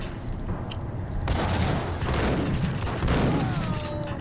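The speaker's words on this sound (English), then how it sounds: "grenade. Kaboom." A grenade explosion in the Max Payne video game, a loud rumbling burst with crackling debris and gunfire-like noise over a few seconds, close and dense throughout, with no speech.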